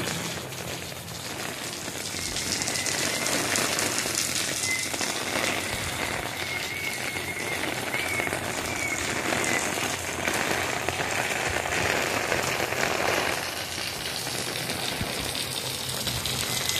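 Heavy rain pours down outdoors as a dense, continuous hiss, loud and steady for the whole stretch, with no one speaking.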